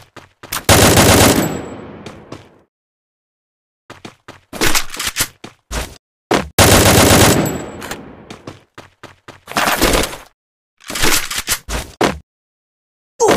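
Bursts of gunfire from the Free Fire battle-royale mobile game, several rapid automatic volleys separated by short pauses and single sharp shots, loud and close with no talking.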